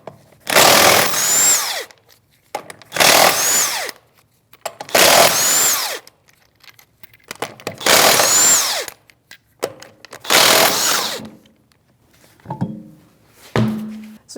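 An impact wrench on a 19mm socket whirs in five loud, close bursts, each about a second long with short gaps between, as lug nuts come off the rear wheel of a Chevrolet Malibu, followed by lighter metal clunks.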